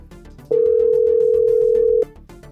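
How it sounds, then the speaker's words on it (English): A phone call rings on the line with a single loud steady electronic tone lasting about a second and a half, heard over soft background music. "Okay, it's ringing."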